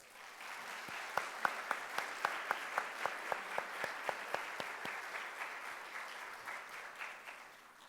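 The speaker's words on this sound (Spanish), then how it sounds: "moderada por Verónica Lisset Delgado Cantú, por quienes pedimos otro fuerte aplauso." Audience applause at a Latin American art lecture event, a steady wash of clapping from a seated crowd with a few sharp, rhythmic claps standing out early, gradually thinning toward the end with no talking.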